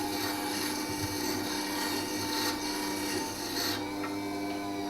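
A WG250 wet stone grinder sharpens a carving V tool, giving a continuous gritty rasping hiss of metal on the wet stone under a steady motor hum, close and constant throughout.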